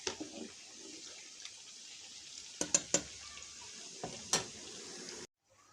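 Beef liver frying in melted ghee crackles and sizzles softly, with a few sharp scraping stirs and clinks of a utensil against the pan before abruptly stopping.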